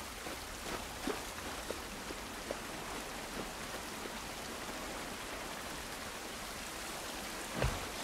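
Rain falling in The Last of Us video game: a steady, soft hiss of rain on surfaces with scattered individual drops ticking through it, continuous and even, with no voices over it.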